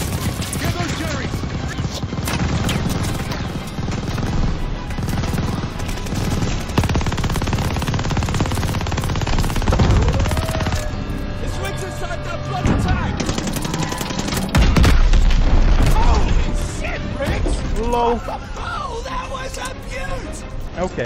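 Sustained automatic gunfire in a World War II combat scene from Call of Duty Vanguard, loud and dense throughout with rattling bursts, explosions and shouting voices in the mix.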